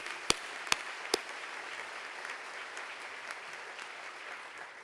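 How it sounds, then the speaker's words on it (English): Audience applause at a fall college convocation, a faint, steady wash of clapping from a large hall, with a few sharper claps at the start. "You should also give a round of applause for our pianist"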